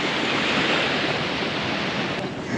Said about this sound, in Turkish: Çok güzel dalgalar var ama gerçekten ya.